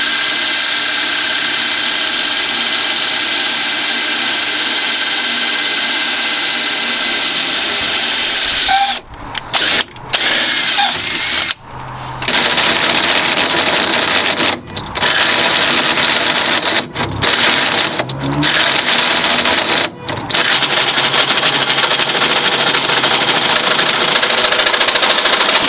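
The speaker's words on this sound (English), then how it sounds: "we should be drilling this thing, hopefully getting a nice big hole in the chassis" A drill bores a large hole through the chassis of an MK3 VW Caddy van, a loud, steady grinding whir that cuts out briefly several times before resuming, with no voices.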